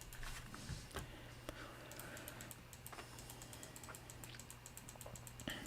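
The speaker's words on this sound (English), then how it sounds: "You can probably hear my clicking on the mouse this entire time" Steady rapid clicking of a computer mouse and keyboard during a live online card game tournament, a close, quiet stream of small clicks and taps running the whole time with no speech.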